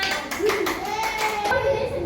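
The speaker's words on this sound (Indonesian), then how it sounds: "Tepuk tangan untuk semuanya." A classroom of students claps together during a lesson, with several bursts of hand clapping under children's voices and a teacher speaking over the top.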